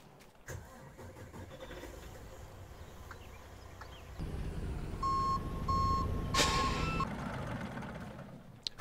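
A truck in Farming Simulator starting up and moving, its engine rumble rising midway, with a short series of repeating reversing beeps near the end.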